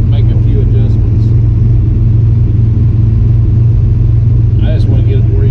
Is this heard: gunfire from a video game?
no